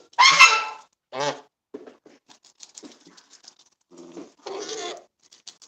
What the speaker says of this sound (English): when Canada Geese make those quiet little sounds like what she's doing